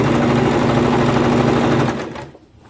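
A sewing machine runs a salwar seam in one loud, close, continuous burst that slows and stops near the end.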